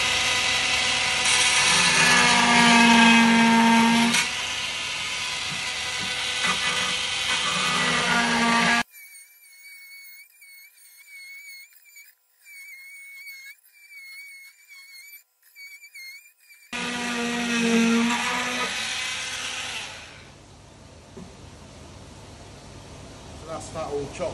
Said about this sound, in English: I'm lucky enough, I've got a multi-tool, so I'll get rid of those.